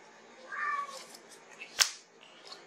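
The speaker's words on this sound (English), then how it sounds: "I've got a very loud cat in the background" A loud cat meows in the background indoors, one drawn-out call early on, followed by quieter room noise and a sharp click.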